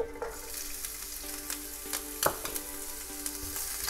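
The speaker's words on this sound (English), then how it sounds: "Now I'm not going to let these go fully brown, just sauteing for about 30 seconds." Chilli, garlic and ginger sauté in hot oil for a veg pulao, a quiet close sizzle with occasional soft stirring clicks and scrapes over the steady crackle.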